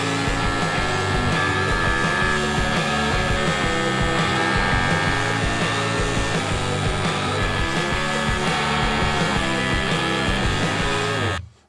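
Steady, loud welding on steel chassis frames, a continuous crackling hiss that runs unbroken for about eleven seconds before cutting off abruptly.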